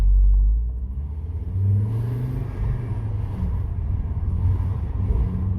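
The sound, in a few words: car accelerating with gear change into second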